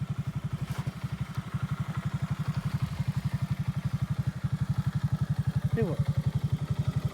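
A motorcycle engine thumps in a fast, steady, even rhythm close by for the whole stretch, with a brief voice near the end.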